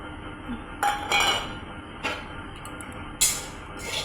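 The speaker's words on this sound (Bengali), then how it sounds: "এবার একটু ড্রাই রোস্ট করে নেব" Semolina dry-roasting in a pan, stirred with a metal spoon that clinks and scrapes against the pan in several sharp, irregular knocks over a low steady background, with no voices.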